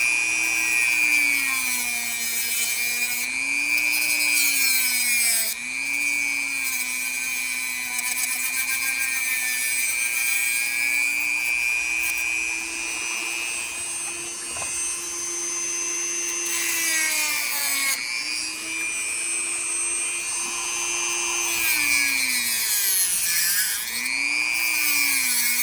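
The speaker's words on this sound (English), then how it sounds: "Let's grab the Dremel." A corded Dremel rotary tool grinds along the plastic edge of an SCX24 crawler body, a loud, close, continuous high whine that dips and rises in pitch as the bit presses into the material and eases off.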